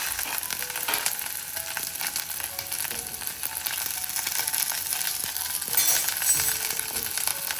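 Curry leaves and garlic sizzle steadily in hot oil in a pan, a continuous close crackling fry with occasional small clinks of a stirring utensil, no talking.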